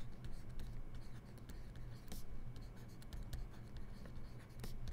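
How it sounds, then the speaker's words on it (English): Pencil or pen writing a math answer on paper, close and quiet scratching strokes in short bursts with brief pauses between them. "So let's write that down."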